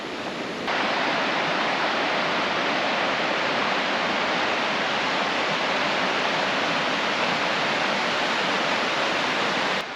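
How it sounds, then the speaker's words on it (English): A brook near the ruins of Ashworth Mill rushes steadily, a loud, unbroken wash of flowing water from start to finish with no voices. "I'm making my way down this brook."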